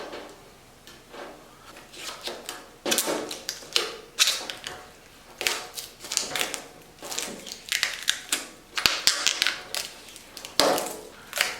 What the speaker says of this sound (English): now we're going to remove the plastic film